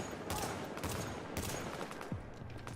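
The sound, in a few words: Rhino Special gun firing in video game The Division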